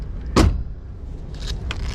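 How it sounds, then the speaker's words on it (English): Rear seat of a 2013 Toyota Sienna V6 minivan being raised, giving one loud mechanical clunk up close, followed by fainter rattles and shuffling inside the cabin. "If you want to put the seat up, it's easy."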